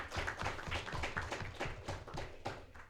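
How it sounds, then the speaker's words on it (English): Faint, sparse applause at a Bank of Nevis high schools championship press briefing: a small group clapping in an uneven rhythm, heard from a distance. "Let's give them a round of applause."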